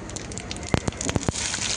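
Mustard and cumin seeds sizzle in a couple of ladles of hot oil for Nashik-style zirka bhakri, giving a close, steady crackling hiss broken by several sharp pops.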